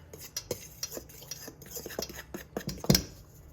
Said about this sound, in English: Mix that up with a fork